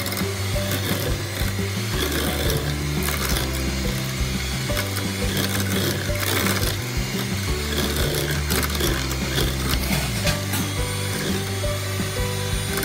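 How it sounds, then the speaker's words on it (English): Room-temperature butter, vanilla essence and sugar are mixed in a bowl with a steady, busy whirring and scraping that runs without pause for the full stretch, fairly close and moderately loud. "in a bowl, add room temperature butter, add vanilla essence to it, and little sugar. Mix it for a minute."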